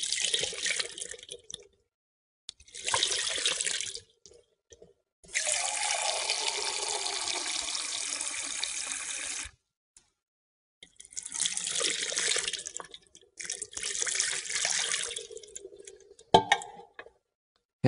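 Water is poured over hands for ritual handwashing, heard as several separate bursts of splashing water, each lasting a second or more, with short silent gaps between pours.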